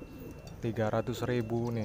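Low, rounded coos from a crested pigeon warble nearby while someone speaks over them, the cooing and voice overlapping throughout.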